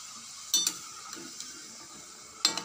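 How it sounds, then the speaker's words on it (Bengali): Jackfruit juice fritters (bora) frying in oil, a soft sizzle broken by a few sharp clinks and scrapes of a spatula against the pan. "তা এইভাবেই আমি সবগুলো ভেজে নেব।"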